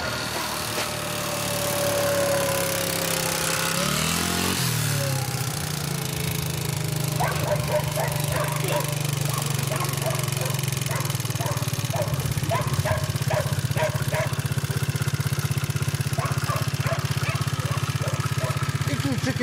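A scooter engine idles with a steady low hum, starting a few seconds in and running continuously, while people talk over it outdoors.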